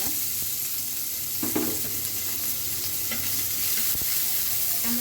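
Chopped onion fries in a little oil in a pan, a steady close sizzle with occasional light taps and scrapes of stirring.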